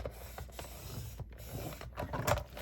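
Paper being scored with a tool to make a score line for a brochure pocket in a Creative Memories scrapbook, heard as close, irregular scraping and rubbing strokes with small clicks, rising toward the end, with no talking.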